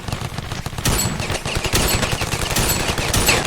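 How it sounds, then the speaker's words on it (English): Dense, loud gunfire in the video game Ravenfield, with rapid overlapping bursts of automatic fire and rattling shots that continue without a break. "I'm getting shot at from somewhere."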